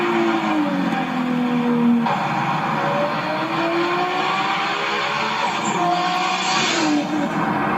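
A car speeds along beside a freeway, its engine note rising and falling as it passes close by, with steady road and traffic noise throughout and a brief tire-squeal-like whine.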